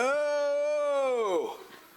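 A voice imitates a cow's long, drawn-out moo, a single sustained call that bends downward and fades away at the end in a quiet rural afternoon setting.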